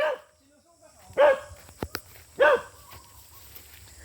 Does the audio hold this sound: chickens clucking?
no